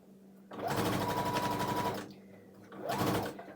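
A sewing machine stitches a scant quarter-inch quilting seam in two bursts, a close, steady rapid clatter that stops briefly and then resumes.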